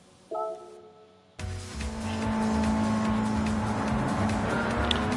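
A 1998 Honda Civic Type R engine in Gran Turismo 7 starts from a brief idle and chime, then revs up into a sustained loud racing drone that stays steady and close.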